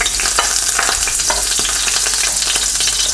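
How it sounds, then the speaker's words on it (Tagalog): Garlic sautés in hot oil in a pan, a loud dense sizzle that stays close and steady throughout, with quick crackling pops and light stirring scrapes layered on top. "magpapainit lang tayo ng oil dito sa pan at magigisa na tayo"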